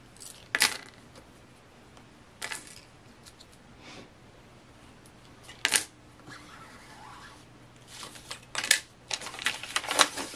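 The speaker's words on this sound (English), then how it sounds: "Using my rotary cutter, I'm going to start trimming" A rotary cutter trims the edges of fabric along a quilting ruler, heard as a few sharp, separate scraping and clicking bursts close by with quiet gaps between them, growing busier toward the end, without talking.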